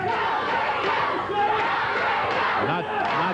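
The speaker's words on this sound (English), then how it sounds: "Everybody in Championship Wrestling studio here is cheering" A wrestling studio crowd cheering and shouting for Jerry at a Championship Wrestling TV taping, a dense roar of yells and whoops rising and falling, with a voice mixed in.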